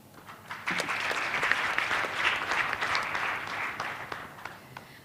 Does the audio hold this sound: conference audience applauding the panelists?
yes